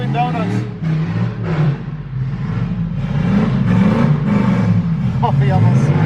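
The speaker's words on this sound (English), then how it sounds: "We came up on some random dude doing donuts." A car doing donuts, its engine revving and droning in repeated swells with tire noise, loud and fairly close, while people talk over it.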